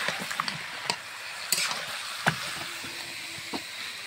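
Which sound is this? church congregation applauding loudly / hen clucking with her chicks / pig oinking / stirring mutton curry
stirring mutton curry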